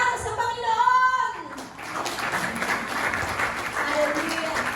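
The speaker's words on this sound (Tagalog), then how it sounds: "isang malakas na palakpak para sa Panginoon!" A church congregation bursts into loud, sustained applause for the Lord during a Filipino worship service; a voice speaks briefly at the start before the dense, steady clapping fills the room.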